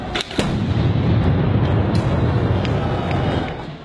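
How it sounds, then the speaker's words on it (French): A GLI F4 police grenade containing TNT goes off during a street protest, a sharp blast followed by a long rolling boom and echoing rumble that fades over a few seconds. "La sanction policière intervient sous la forme d'une grenade particulière, la GLI F4, qui contient 25 grammes de TNT."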